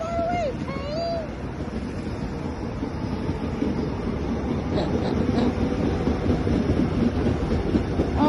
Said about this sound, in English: Train coming. Kimchi train.